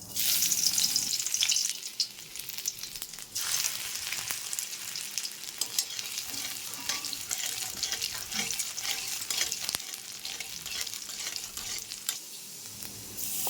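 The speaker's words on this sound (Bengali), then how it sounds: "জিরে আর রসুন কুচি দিয়ে ফোড়ন দেব।" Cumin seeds and chopped garlic sizzle in hot white oil in a kadai, a steady close hiss running throughout with brief surges and crackles.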